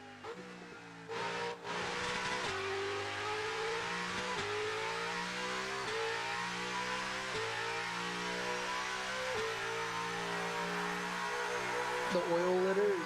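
A Corvette race car's engine at a time attack practice session revs and drops through gear changes, with rising harmonic whine and repeated upshifts sounding loud and close from onboard throughout.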